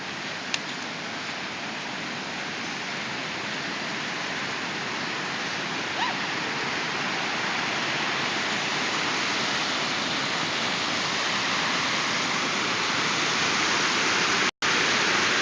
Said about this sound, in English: Turned my backyard into a torrent.